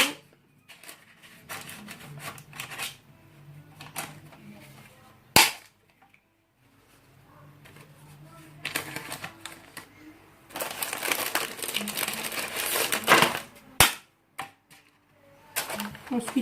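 Courgettes and lasagne ingredients chopped with a knife on a board, with bursts of scraping and crinkling, a couple of sharp knocks, and uneven handling noise at close range.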